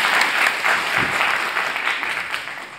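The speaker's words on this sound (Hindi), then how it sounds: "तालियां बजती रहनी चाहिए" A hall audience at a university lecture claps together in a thick, continuous burst of applause that holds at an even level from start to finish, with no speech over it.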